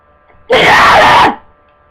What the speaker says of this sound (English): Sneezed. Sorry.